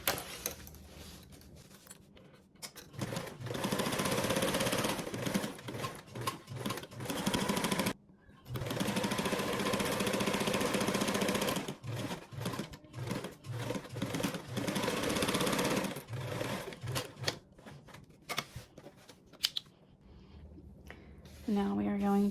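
A sewing machine basting around a fabric slip pocket, running in several bursts of rapid stitching broken by short pauses and handling noises, with a voice speaking at times.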